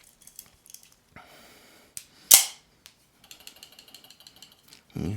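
An HK Mini Incursion OTF automatic tanto knife fires its blade with a sharp, loud snap, surrounded by quieter clicks and mechanical rattles of handling, then a final firm clack.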